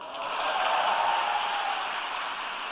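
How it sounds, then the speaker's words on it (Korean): Congregation applauding at a church prayer meeting, a dense steady clatter of many hands that swells early and holds throughout, with no one speaking over it. "예, 동의하는 분만 박수."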